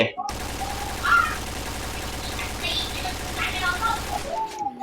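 Rapid automatic fire from an AUG A3 rifle in the shooter game Point Blank, a dense continuous rattle of shots held for several seconds, with a voice talking over it.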